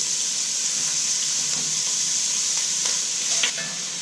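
Onions and lardons fry in a pan for carbonade flamande, a loud, dense, continuous sizzle close up with faint stirring scrapes.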